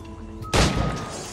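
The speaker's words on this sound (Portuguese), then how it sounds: "ainda errei esse tiro" A single gunshot fires in Assassin's Creed Black Flag, a sudden loud blast that cuts over a low game background hum and decays over the following second.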